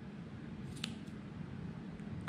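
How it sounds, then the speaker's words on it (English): Scissors snip through angora rabbit wool during grooming, a faint, crisp cut or two over a low steady background hum. "The sound of the scissors tells me a lot."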